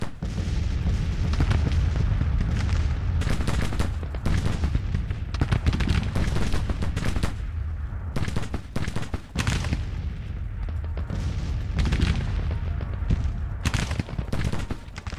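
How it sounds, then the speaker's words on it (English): Dense, continuous artillery barrage in the Civil War strategy game Grand Tactician, with heavy booms and cannon blasts overlapping nonstop at a loud, steady level and no pauses between shots. "Ton of artillery firing right here"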